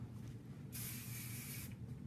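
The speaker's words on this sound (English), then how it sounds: "you can just use the dry texture spray" A single burst of dry texture hair spray hisses from an aerosol can for about a second, close and clear over a quiet background.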